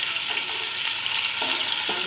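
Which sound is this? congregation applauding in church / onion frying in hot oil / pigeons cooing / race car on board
onion frying in hot oil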